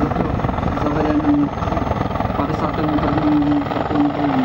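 A Mil Mi-24D Hind military helicopter at the NATO Days airshow makes a steady, loud rotor and turbine roar with a rapid pulsing beat, and a voice talks over it throughout.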